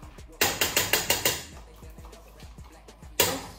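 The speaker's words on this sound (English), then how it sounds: "I'm gonna mash my potatoes." A masher pounds potatoes with butter in a pot: a quick run of six hard, rhythmic knocks, then softer scattered thumps and one more loud strike at the end.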